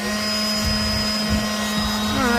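Small Ryobi battery-powered vacuum cleaning out a curbside Ridgid vacuum, a steady close whine with a strong constant tone and rising and falling suction as it works.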